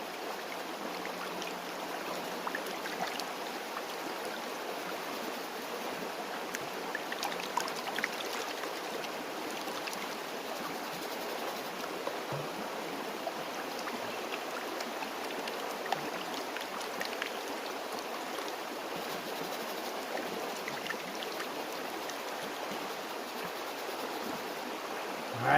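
A classification screen is shaken and dunked in a Pennsylvania stream while prospecting for gold, giving a steady, close wash of rushing, splashing water that runs unbroken throughout with no voices.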